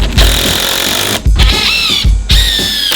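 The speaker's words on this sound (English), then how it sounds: "Last couple screws going in on this window over here." A power screwdriver drives screws into a window frame on a freshwater pond build, three loud whirring bursts with short pauses between them, each with a rising squealing whine.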